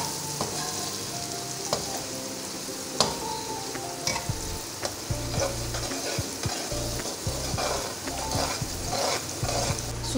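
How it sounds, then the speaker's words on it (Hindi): Semolina roasts in a pan with cardamom, sizzling softly as a spoon stirs and scrapes it in a steady rhythm, with occasional clinks against the pan. "अब मैं सूजी भून रही हूँ"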